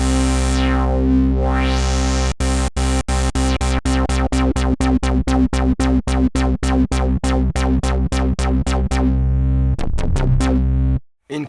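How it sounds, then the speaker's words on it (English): Uranos synthesizer on a Maschine Plus plays a loud sustained tone pushed through filter overdrive, first with a sweeping filter, then chopped into a rapid series of evenly spaced gated pulses that scatter and cut out at the end. "The audio signal coming out from the filter can be overdriven by the overdrive"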